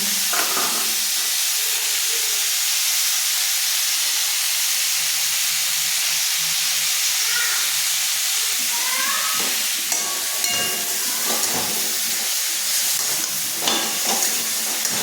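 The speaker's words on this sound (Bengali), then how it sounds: "সর্ষেটা দেওয়ার পর আরও ভাজা ভাজা করে নেব।" Mustard paste frying in a pan gives a continuous broad hiss and sizzle with scattered crackles and light stirring scrapes, a faint voice now and then in the background.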